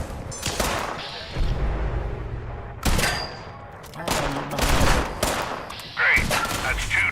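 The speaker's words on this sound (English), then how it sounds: "Gosh, the explosions are good." Explosions and gunfire in the Fallout 76 video game, with repeated loud blasts and bursts of rapid shooting over about seven seconds, close and heavy, with a rumbling low end throughout.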